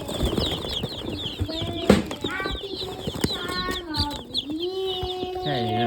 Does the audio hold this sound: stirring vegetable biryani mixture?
no